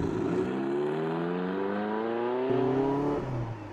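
A Ferrari 288 GTO sports car engine revs through rising pulls, its tone climbing steadily, dropping briefly and climbing again, heard close and fairly loud with no talk.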